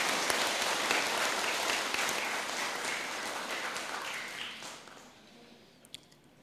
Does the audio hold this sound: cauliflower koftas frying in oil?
no